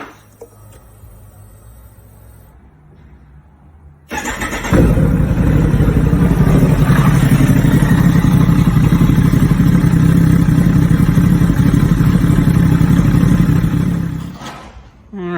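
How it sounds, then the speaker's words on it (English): A Kawasaki ZX-14 motorcycle engine cranks and fires up about four seconds in, then idles loudly and steadily for roughly ten seconds before cutting off, with quiet background beforehand. "We're going to go ahead and start the engine"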